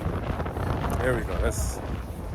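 Wind gusts buffet the microphone on an outdoor walk, a steady low rumble running throughout beneath a man's nearby speech.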